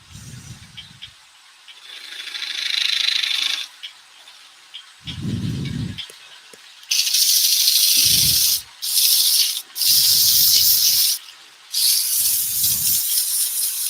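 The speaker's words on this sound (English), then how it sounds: "So I'll sand that up." Hand sanding with 120 grit cloth-backed sandpaper on a workpiece being prepared for paint, heard as several separate rasping strokes, some short and some sustained, with brief pauses between them and no talk.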